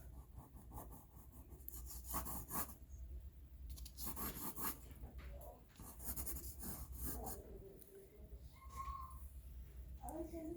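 Pencil strokes on paper while outlining shapes, coming as bursts of close scratchy rubbing separated by short pauses, with a quiet voice talking between strokes.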